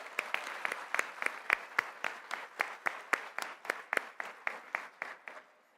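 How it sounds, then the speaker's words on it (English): Applause from a crowd at a conference opening ceremony, loose and sparse claps in an uneven rhythm, moderately loud, fading out near the end. "let's give a round of applause to our casino workers"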